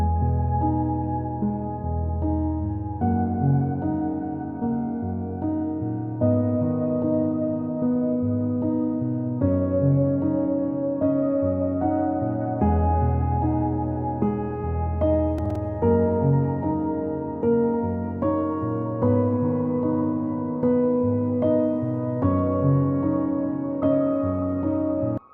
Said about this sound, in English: This preset is the Ambient. It's again from the Augmented Grand Piano.